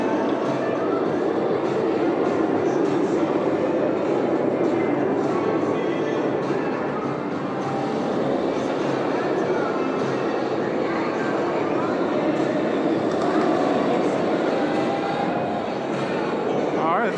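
Roller coaster trains at Six Flags Magic Mountain, all three running, give a sustained, dense roar of wheels on track with rattling and faint squeals, while indistinct crowd voices murmur underneath throughout.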